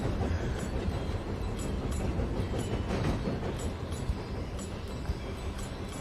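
Train from the video game Tiny Rails running on its tracks at speed, a steady broadband rumble with faint rhythmic rail clatter throughout, no talking.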